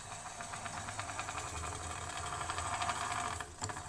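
Hand-cranked Lancaster No 40 blacksmith forge blower running with a brass handle, a faint, rapid whirring hum with a steady ticking gear rhythm and a brief clatter near the end.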